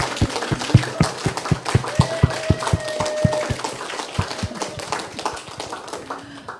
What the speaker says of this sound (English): let's give Dr. Boyd another round of applause